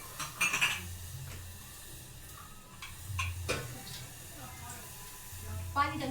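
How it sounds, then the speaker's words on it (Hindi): Cups being taken out in a home kitchen while tea boils, with a few light ceramic clinks and knocks scattered across a quiet background, close by and fairly faint, with occasional speech. "कप निकाल लेते हैं।"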